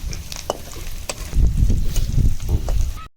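Rabbit meat pickle frying in oil with curry leaves, a loud close sizzle and crackle as the pan is stirred, with scraping strokes and spattering bursts before it cuts off.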